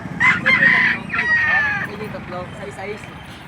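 A rooster crows loudly and up close at a Philippine poultry market, with chickens clucking and a few shorter calls trailing after it. A voice can be heard among the birds.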